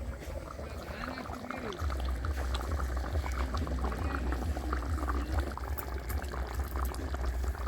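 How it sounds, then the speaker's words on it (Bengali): Chicken curry keeps bubbling in a clay pot after coming off the heat, a thick steady simmer with soft popping bursts and a low rumble, fairly close, continuing evenly throughout. "দেখুন নামানোর পরে কেমন ফুটছে।"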